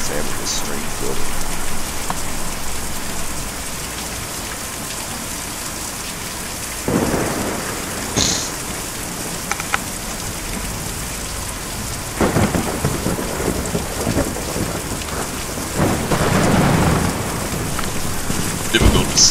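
Thunderstorm in the Kentucky Route Zero video game: steady heavy rain hisses throughout while several thunder rumbles and cracks break through, loud and close, with one long roll near the end.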